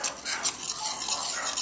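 A utensil stirs thickening pineapple pavê cream in a pan, making a steady, close scraping and swishing in quick repeated strokes, alone and fairly quiet.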